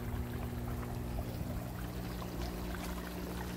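Water pours steadily from an aquaponics sump inlet into a fish tank on a hilltop setup, a continuous close splashing flow with a low steady hum underneath, no talking.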